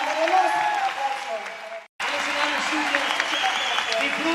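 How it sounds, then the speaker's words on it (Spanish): A concert crowd in Chile applauds Spanish artists Azúcar Moreno in a standing ovation, loud dense clapping and cheering that drops out briefly for a moment and then resumes just as strongly. "nos aplaude de pie"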